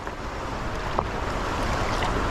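A strong river current rushes and churns close by, a continuous broadband roar with wind buffeting the microphone, steady and unbroken throughout without any talking.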